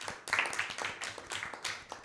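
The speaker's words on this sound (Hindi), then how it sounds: "इनके लिए भरपूर तालियां।" An audience at a Christmas Bible quiz claps for the school teams, quick irregular hand claps that swell and settle in bursts at moderate volume without speech.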